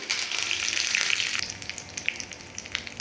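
Chillies and curry leaves crackle and sizzle loudly in hot oil as a tempering for snake gourd yogurt chutney, a steady close hiss with brief sharp pops, with no talking.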